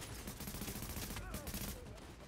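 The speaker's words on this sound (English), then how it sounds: "I'm taking some suppressing fire here" Suppressing fire in The Division, a third-person shooter: a steady stream of rapid gunshots, distant and fairly faint, running continuously with a brief flurry of ricochet-like whines near the middle.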